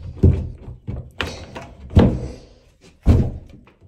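An old door in an abandoned farmhouse kitchen is worked open with a series of heavy thunks and knocks, four loud hits spaced irregularly with scraping and rattling between, close and without talk.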